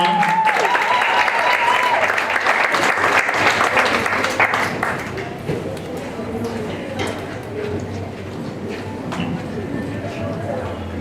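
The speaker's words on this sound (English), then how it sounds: "Kay and Bennett, give her a round of applause." Applause for graduates of a hospitality training programme in central Jamaica, a dense clapping crowd loud for the first few seconds and then thinning and fading, with voices chattering beneath it.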